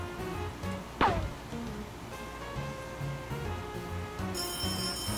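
A cartoon phone rings in an animated comedy sketch, a steady electronic ringtone entering near the end over background music, after a sharp cartoon sound effect.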